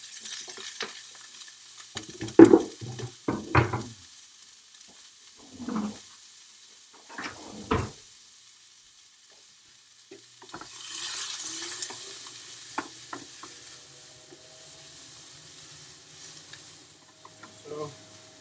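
Onions caramelizing in oil in a pan, with intermittent stirring and scraping clatter at the start, then a soft, steady sizzle underneath near the middle and end.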